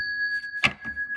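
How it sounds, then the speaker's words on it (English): Hand-rung bells give a sustained bright ringing tone, with a few soft struck chimes and thumps layered over it in a quiet room. "Let me ring my bells."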